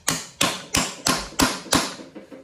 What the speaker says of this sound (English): the shock of the bolt head being hit will also help loosen it